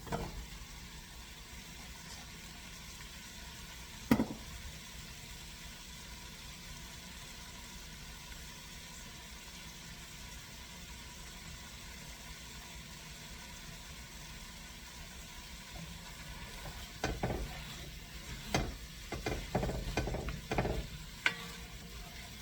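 Sausage and okra frying in a pan, with steady low sizzling through most of the stretch, a sharp clank early on, then a cluster of scraping, clattering stirring strokes near the end.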